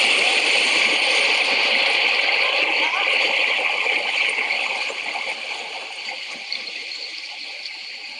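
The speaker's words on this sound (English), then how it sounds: "this film will show a little bit how you can swim a river" Ten-year-old children swimming in a river for the first time, with continuous water splashing and churning close by under a steady broadband wash, while a voice talks over it.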